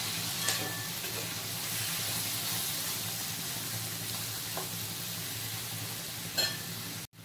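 Spiny gourd (kakrol) slices frying in a pan, a dense, even hiss of sizzling oil with a few faint clinks and taps, steady and moderately quiet throughout.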